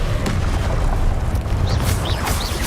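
A Confringo blasting spell in a magic video game goes off as a loud, close, rumbling boom, with crackling bursts layered over dense low-frequency roar and no talking.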